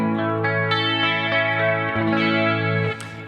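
A sustained electric guitar chord played clean through a 1968 Marshall Super Lead amp profile with chorus, light reverb and compression, ringing richly with a few soft picked accents before fading slightly, no voices.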